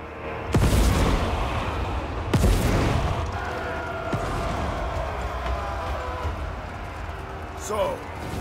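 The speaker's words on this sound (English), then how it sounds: "Cannons fire upon the defenders." Cannons fire in a Total War: Warhammer 3 siege battle, two heavy booming blasts early on followed by a rumbling, noisy battlefield bed with scattered smaller impacts.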